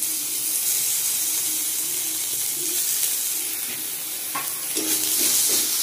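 Ginger-garlic paste frying with lightly browned onions in a pan, a steady close hiss of sizzling oil with occasional spoon scrapes and clinks near the end, no talking.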